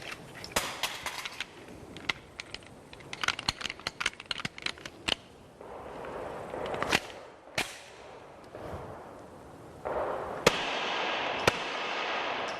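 A suppressed Glock 9mm pistol fires a rapid string of sharp muffled cracks in bursts, with brief pauses and a few isolated later shots over quiet background noise.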